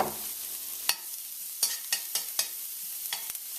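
About five cloves of finely diced garlic fry over low heat in a pan, a quiet soft sizzle punctuated by sharp, evenly spaced scrapes and taps of a utensil stirring.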